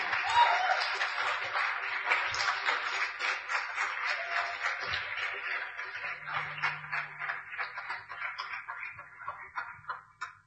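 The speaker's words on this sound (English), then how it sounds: "So a big, massive round of applause for David Nutt." A pub audience at a Skeptics in the Pub talk applauds the guest speaker, a dense burst of clapping that gradually thins over ten seconds, with scattered murmurs underneath.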